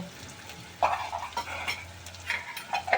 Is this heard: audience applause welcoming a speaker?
no